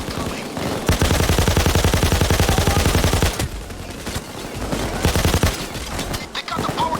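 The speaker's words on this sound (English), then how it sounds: "me whipping my mouse around and shooting wildly" Rapid automatic gunfire from a video game, the player swinging the mouse around and firing wildly; dense, loud bursts run almost nonstop, briefly thinning before resuming with fresh volleys.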